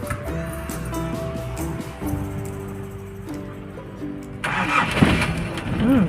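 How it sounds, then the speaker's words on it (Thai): A used Nissan Big-M pickup's engine cranks and catches partway through, then runs at a steady idle. Low mechanical rumbling fills the clip throughout. "ลองสตาร์ทฟังเสียงสักหน่อย นะ"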